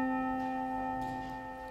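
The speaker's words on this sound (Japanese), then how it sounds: "ちょうどチャイムが鳴りました" A school chime rings in a university lecture room as steady, sustained electronic tones, fairly faint and heard alone at the end of a class.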